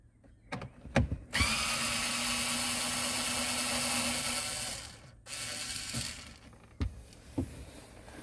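A power tool whirs steadily for about four seconds, undoing a screw in a Smart 453 dashboard, then spins again briefly after a pause, with sharp clicks and plastic knocks before and after.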